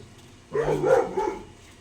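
A dog barks a few times in a quick burst after a moment of quiet, fairly close and moderately loud.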